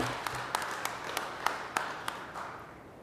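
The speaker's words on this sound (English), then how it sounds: "Give them a round of applause again," An audience at a Livingston County Board meeting applauds, with a fairly quiet patter of clapping and sharper individual claps standing out, fading toward the end.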